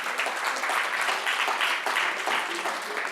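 An audience in a lecture hall applauds steadily for the whole stretch, a dense wash of many hands clapping at a fairly even level, with no speech over it.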